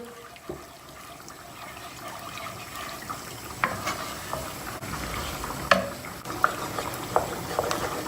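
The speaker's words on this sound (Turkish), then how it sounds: "Unumuzu bir karıştıralım" Flour is stirred in a pan with milk while making an eggplant dish, soft wet stirring that stays steady under a few sharper scrapes and clicks of a spoon against metal, close by and fairly quiet.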